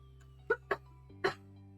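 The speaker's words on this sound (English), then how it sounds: "Excuse all the coughing, by the way." Three sharp coughs from one person, the first two close together and the third after a short pause, close and fairly loud with no speech.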